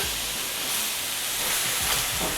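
Burger patties sizzle steadily in a hot pan with a continuous broadband hiss, fairly close and even, with no talking over it.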